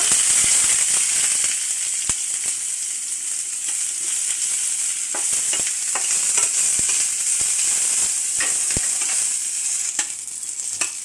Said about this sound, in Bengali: এরপর আমি এই যে কিছু রসুন আর পেঁয়াজ কুচি ভেজে নেব